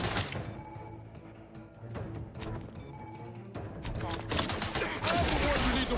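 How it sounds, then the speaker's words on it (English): Gunfire in the game Outer Worlds 2 crackles through a busy firefight: scattered sharp shots and rattling bursts mixed with clanging effects, fairly faint and muddled under the surrounding combat noise. "Why are you shooting me?"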